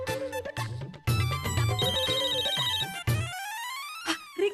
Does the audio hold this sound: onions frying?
no